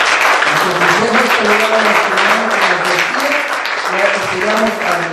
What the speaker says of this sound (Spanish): ¿Cuántos dan un fuerte aplauso al Señor?